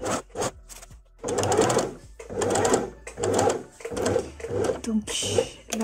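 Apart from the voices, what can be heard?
sewing machine stitching a dress seam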